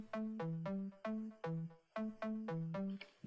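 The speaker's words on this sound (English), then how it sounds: "With that I have added deep techno bass." A deep techno synth bass in a Logic remake of a song plays a bright, bouncy riff of short, ringing notes in a steady rhythm, heard alone and fairly quiet.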